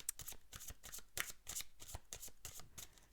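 Oracle cards of light shuffled continuously in the hands, a quick run of crisp riffling flutters and soft slaps repeating at close range with no talking.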